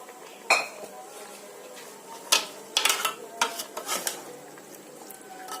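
Garlic, tomato and onion mixture tipped into a cooking pot for chicken mandi, heard as a run of close metallic clinks and scrapes of utensil against pot, several quick knocks spaced irregularly over a faint sizzling background.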